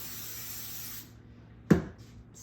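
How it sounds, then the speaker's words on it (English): Baker's Joy baking spray hisses from an aerosol can into a bundt pan over a sink, one short burst close up, followed by a brief rub. "I'm just using Baker's Joy to spray it down"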